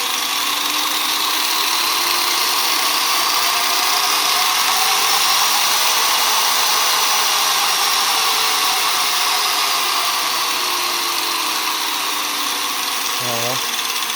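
An angle grinder runs steadily at its lowest speed setting, a loud continuous electric whine with a slight wavering pitch, heard close up for the whole stretch.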